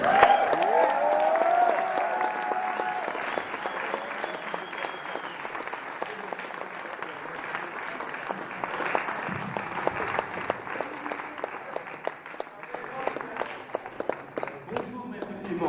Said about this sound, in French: Des applaudissements pour Maître Clément.